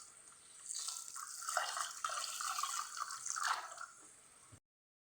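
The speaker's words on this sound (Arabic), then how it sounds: "نغسله لغايه ما الابيض اللي فيه ده ينزل خالص" Lentils for koshari are rinsed under a running tap, water splashing and gurgling as they are swirled, close and fairly soft, before the sound cuts off abruptly.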